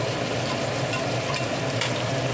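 Ginger garlic paste with salt, cumin, chili and turmeric powders sizzles in a hot pan while being stirred, a continuous close crackling fry with no talking.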